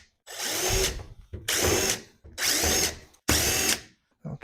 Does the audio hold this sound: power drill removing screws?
yes